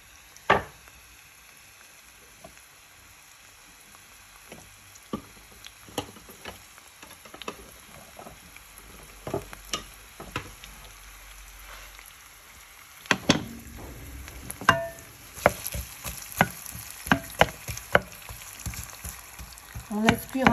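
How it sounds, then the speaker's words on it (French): Onions cook in a pan for a merguez ajja, giving a steady soft sizzle broken by scattered clicks and scrapes of stirring, which get busier and louder toward the end, with no talking. "On laisse cuire un petit peu les oignons et après on rajoute les poivrons et les piments."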